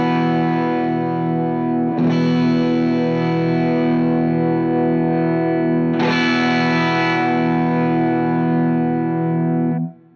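Electric guitar through a Wampler Moxie overdrive pedal, with sustained distorted chords struck about every four seconds while the tone knob is swept, ringing steadily and fading out at the end with no voices.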